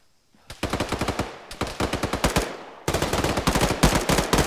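Rapid bursts of automatic gunfire in ArmA 3 rattle in three sustained volleys, loud and close, each a fast rhythmic stream of sharp shots.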